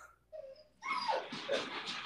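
A dog whimpers and yips in short, high, wavering cries, faint and nearby in a quiet room.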